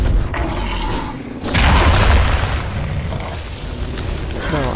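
Goliath hurls rocks in the video game Evolve, a heavy rumbling burst and crunching impact over mechanical clatter, loud and close, swelling midway then easing off.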